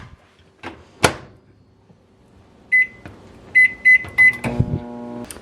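A microwave oven reheating frozen carrot soup in a home kitchen: a door thump, then a run of sharp electronic beeps, followed by the low steady hum of the oven starting up, fairly close and with no talk.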